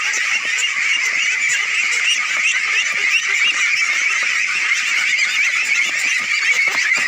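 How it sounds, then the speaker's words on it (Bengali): A flock of ducks on a new integrated duck farm over a village pond in Bangladesh, a dense continuous chorus of honking quacks from many birds at once, loud and steady with no break. "এটি একটি নতুন হাঁসের খামার"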